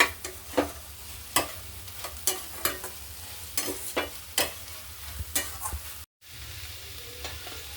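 Spring onion greens with crushed peanut powder being stirred in a pan, with a spatula scraping and tapping in repeated close strokes over a steady low sizzle and a brief pause near the end.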